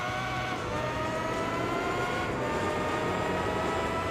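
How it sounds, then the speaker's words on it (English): A Formula GT race car in Gran Turismo 4 strains as it downshifts, its engine note droning loud and rough with a wavering, sputtering whine that holds continuously throughout. "the poor engine sounds like it's suffering a seizure"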